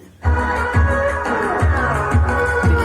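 A song with a strong, punchy bass beat plays loudly through a speaker driven by a TPA3116D2 amplifier board, kicks thumping at a steady rhythm under melodic lines.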